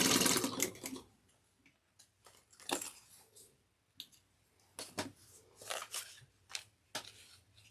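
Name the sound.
sewing machine stitching a woven tote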